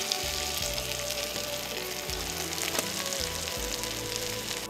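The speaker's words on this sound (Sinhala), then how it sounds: "ඒ තුළ තමයි මේ මුරුංගමල් ටික තෙම්පරාදු වෙන්නේ" Drumstick flowers frying in hot tempering oil in a Sri Lankan kitchen, giving a steady, close sizzle and crackle that runs the whole way through with no talk over it.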